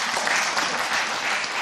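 Studio audience at a German talk show breaks into applause, a dense, steady wash of many hands clapping, close and even throughout the brief moment.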